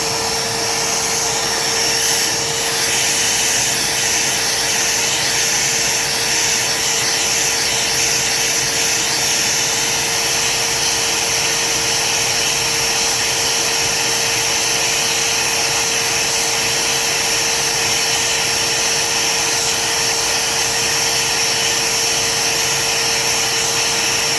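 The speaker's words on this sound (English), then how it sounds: "So we'll grab a vacuum." A vacuum cleaner runs loud and close in a motorcycle workshop during a Kawasaki KX100 crankshaft and transmission teardown, giving a steady, unbroken hissing whine for the whole stretch with no talk over it.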